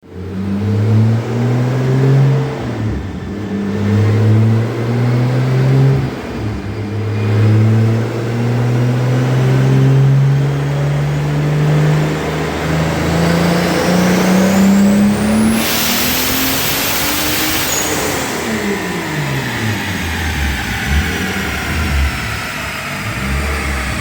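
A big-turbo 2JZ engine in a Toyota Supra MK4 revs loud and close under boost. It holds a droning tone, climbs steadily in pitch, then drops off sharply near the end with a turbo hiss.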